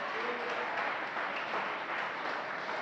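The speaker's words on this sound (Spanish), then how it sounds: "Denle ese aplauso al Señor." Congregation applauding in a church service, a dense, steady wash of hand claps filling the room throughout, fairly distant and even with no voices standing out.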